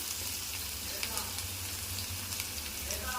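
Chopped onions fry in a pan with a soft, steady sizzle, close and fairly quiet, with a low hum underneath and occasional small crackles.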